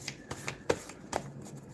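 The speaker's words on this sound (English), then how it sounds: "so after we do the shuffle, we'll flip to the back side here" A deck of reading cards is shuffled close by, with a few quick papery riffles and soft snaps in a short burst, no talk.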